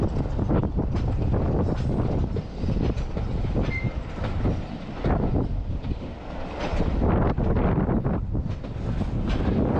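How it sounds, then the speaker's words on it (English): A long diesel train rolls past close by with steady wheel clatter and rumble on the rails, heavy wind buffeting the microphone throughout, in Brechin, Scotland. "Wow, that's a long train."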